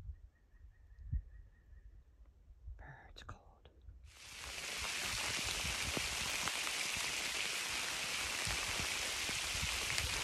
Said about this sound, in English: It's really raining, really, really raining.